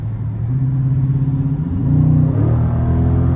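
A car engine revs up nearby on a rainy day drive, its pitch climbing as it accelerates through a steady, throaty rumble, with no talking.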